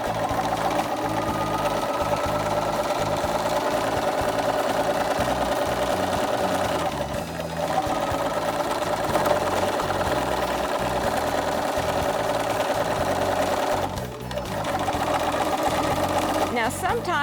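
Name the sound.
sewing machine stitching a jeans hem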